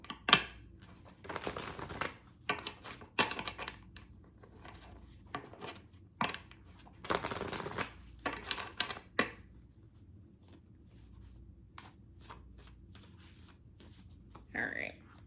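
Cards being shuffled, with several brisk riffling bursts spread across the stretch, moderately close and fairly quiet, among short pauses and small handling noises.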